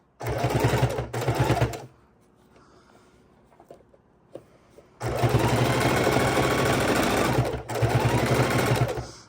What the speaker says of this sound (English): So please, please, please go real slow with your sewing, and that way you won't pop a needle